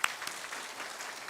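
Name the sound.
congregation applauding in church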